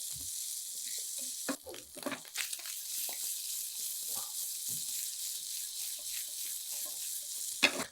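Mutton pieces frying on a low flame for Punjabi biryani, a soft continuous sizzle with scattered scraping and stirring knocks, fairly quiet and close.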